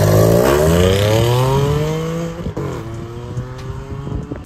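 Audi S5 at stock ride height revving with the exhaust valve closed, a loud close rising and falling engine roar with crackles as revs drop, no talk.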